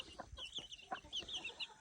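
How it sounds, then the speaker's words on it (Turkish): Soft clucking from a hen mixes with high, faint peeping of chicks, a quiet and close barnyard chatter. "İçinde koral tavuğum 10 tane yakın civciv büyütüyor"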